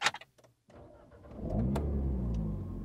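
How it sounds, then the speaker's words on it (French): A few faint clicks, then a car engine cranks and catches after a push-button start with foot on the brake, settling into a steady low idle hum. "Je vais démarrer la voiture, donc pied sur le frein, j'appuie ici."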